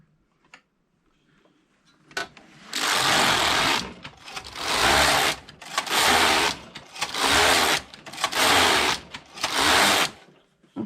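A Passap E6000 knitting machine carriage knits ribbing rows for a baby vest. Six loud, even mechanical passes of whirring and clattering sweep back and forth one after another, with a short pause between each stroke.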